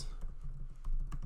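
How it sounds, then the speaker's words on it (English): Keys tapped on a computer keyboard while text is entered in a design program, a quick close run of light clicks. "in this text I'm going to type in select sweetness"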